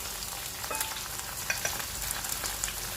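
Okra (bhindi) frying in a pan, a steady soft sizzle with faint crackles and occasional light stirring clicks, continuous and close with no talking.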